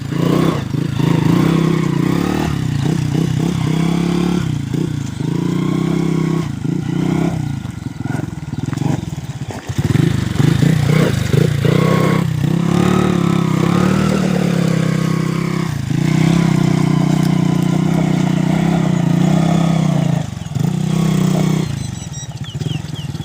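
A Honda three-wheeler with no brakes fitted yet, out on a test ride, its small engine running loud and close, steady, with short dips and surges as the throttle changes over about twenty seconds.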